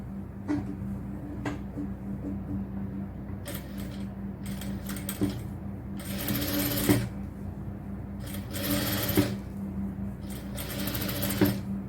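A sewing machine stitching a cotton top, steady close mechanical whirring in several short runs separated by brief pauses, with a constant low hum of the motor throughout.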